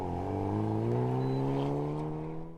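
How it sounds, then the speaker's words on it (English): Cars lapping an autocross course at a Hyundai Veloster N event give off a steady, distant engine drone that rises slightly in pitch, then fades toward the end. "what you're hearing behind me is the autocross course"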